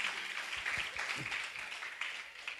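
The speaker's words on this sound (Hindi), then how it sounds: "जोरदार ताली बजाइए यीशु मसीह के लिए" A church congregation gives sustained, fairly loud applause for Jesus Christ during a worship service, a dense wash of clapping hands filling the room steadily from start to finish.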